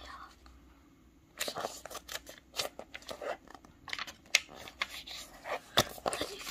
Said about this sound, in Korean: 사각형을 한번 접어주시고 펼쳐서 반대쪽 끌어서 사각형을 접어주세요.